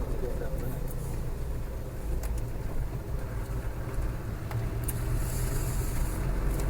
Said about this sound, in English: it's got that nice torque pulling away in third there